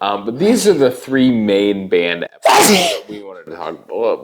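A single sharp sneeze bursts out in the middle of a conversation, with people talking before and after it.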